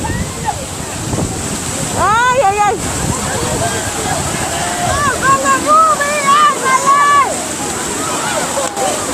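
A river at dawn rushes and splashes in a constant loud, broadband wash, while excited voices shout and cry out over the water.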